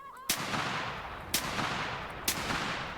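Gunfire in the hunting video game theHunter Classic: three sharp, loud shots at roughly one-second intervals, each with a brief ringing decay, heard alone with no talking.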